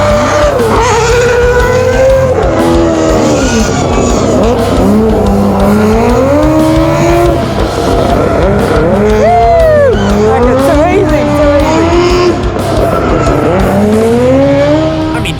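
Drift car driven by an F1 driver at a drifting session, sliding sideways under constant high revs, with repeated rising and falling engine sweeps and squealing tires, loud and close throughout, with occasional voices beneath.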